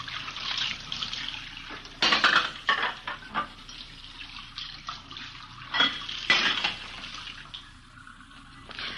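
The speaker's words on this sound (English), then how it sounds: "We found her in the kitchen washing dishes." Dishes washed by hand in a kitchen sink: running water trickles steadily while plates and cutlery clink and clatter in irregular bursts, close by and with no voices.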